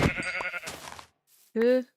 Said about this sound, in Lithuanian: Opa, kiek avyčių.